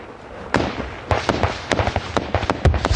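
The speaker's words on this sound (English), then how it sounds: "their gunfire very close." Rapid sharp cracks of close gunfire ring out in irregular bursts during the Afghanistan conflict, several shots close together, loud against a rumbling background.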